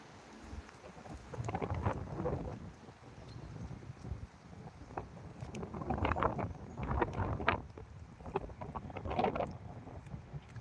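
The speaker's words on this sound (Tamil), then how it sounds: "காற்று சத்தம் கேட்குதுங்களா" Gusts of wind buffet the microphone in rumbling waves, rising and falling over several seconds outdoors with no voices.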